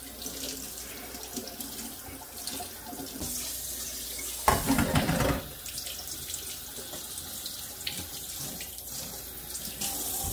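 Tap water runs steadily into a sink while cottage cheese curd is rinsed under it, a constant splashing flow with a brief louder surge midway as the stream hits the curd.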